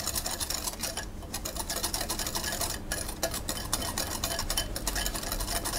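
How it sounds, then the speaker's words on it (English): A whisk mixes sugar and cinnamon in a bowl, making a steady, fast, close scraping and ticking that runs without a break and with no voices. "I'll give that a stir with a whisk just to get that all mixed together"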